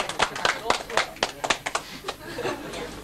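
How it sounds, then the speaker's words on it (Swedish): A few people clap in short, uneven bursts in a café at closing time, mixed with chuckles and nearby chatter. "Ja, jag applåder."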